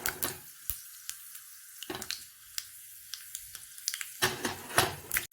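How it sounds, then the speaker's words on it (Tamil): Mustard seeds, urad dal and fenugreek pop in about two spoons of hot oil while tempering for idi sambar, giving sharp, scattered crackles and bursts over a faint sizzle, close and fairly quiet. "கடுகு வெடிக்க ஆரம்பிச்சிருச்சு."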